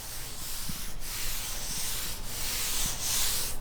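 Griot's synthetic clay rubs back and forth on rough car paint, a close, continuous gritty scraping with faint rhythmic strokes, alone with no talk.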